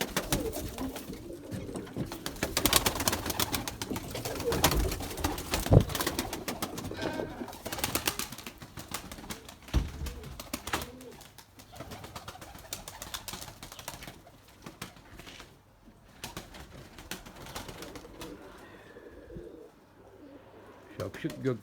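Domestic pigeons cooing during a flight session, soft repeated coos near the mic mixed with occasional wing flaps, while people talk over much of the scene.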